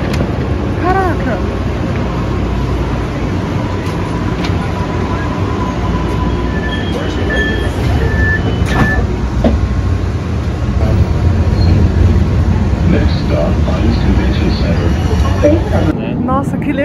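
A train running on a Boston rail line, a heritage-era train still in service, rumbles past continuously at close range with a steady heavy roar, brief high squeals and tones, while people talk nearby.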